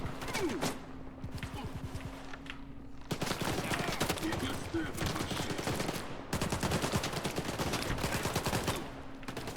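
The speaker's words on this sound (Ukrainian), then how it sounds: "ну наче вони стріляють тут монолітівців" Rapid bursts of automatic gunfire crackle almost nonstop, dense and sustained, with a voice talking underneath at times, in the video game S.T.A.L.K.E.R. during an attack by Monolith fighters.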